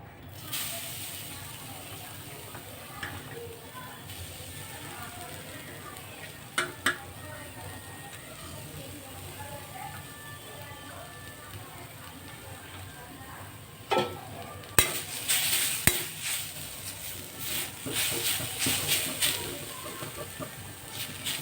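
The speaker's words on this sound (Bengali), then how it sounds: "কড়াটা গরম হয়ে গেছে, এর মধ্যে নারকেলটা দিয়ে দেবো।" Grated coconut tossed into a hot karai, sizzling steadily while a utensil scrapes and clatters against the pan in scattered bursts that grow busier toward the end, heard up close.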